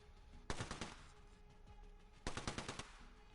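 Alternator, a twin-barrel gun in the shooter game Apex Legends, fires two rapid bursts of about six shots each, separated by a short pause. The shots are loud, close and crisp, with no voices.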